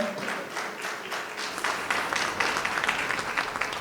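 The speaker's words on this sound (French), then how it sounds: "On va raccompagner la représentante de la CNSS IMO avec des applaudissements." An audience at a business award ceremony applauds steadily, a dense patter of many hands clapping that swells slightly and carries on throughout.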